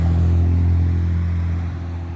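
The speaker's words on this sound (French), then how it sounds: "il y en a une qui passe là, une MG apparemment." An MG car passing on a road, a close, steady engine hum and tire rumble that fade slightly as it goes by, with no talking.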